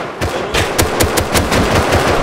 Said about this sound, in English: You're shooting me, Sam.